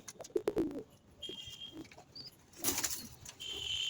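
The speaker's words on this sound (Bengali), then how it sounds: "এই যে এই দুটো হচ্ছে কালোয়া পায়রা" Kalo pigeons nearby, several soft flurries of flapping wings at the start, then low cooing and rustling, with faint bird chirps on top.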